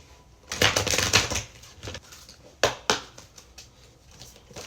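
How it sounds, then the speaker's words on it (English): Cards being shuffled up close in several quick riffling bursts with short pauses, crisp papery flutters and no talking. "I keep shuffling these cards"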